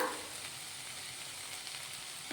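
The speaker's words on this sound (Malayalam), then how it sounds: "ഈ സവോള നന്നായിട്ടൊന്ന് വഴറ്റിയെടുക്കണം" Onions sauté in hot oil, a steady faint hiss of frying throughout with no other sounds.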